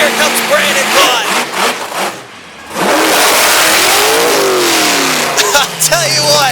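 A monster truck at a Honesdale, Pennsylvania event revs its engine loudly and close, surging in a sustained roar after a brief dip, with an announcer talking over it.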